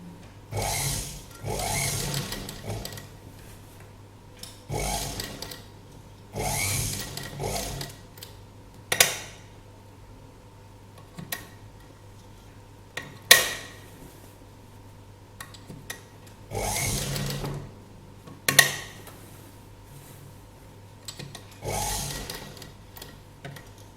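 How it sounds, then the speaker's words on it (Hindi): A sewing machine stitching a string (dori) neck design runs slowly in repeated short bursts of rhythmic clicking and whirring, separated by quiet pauses, close and fairly soft. "बहुत धीरे धीरे आपको मशीन चलानी होगी।"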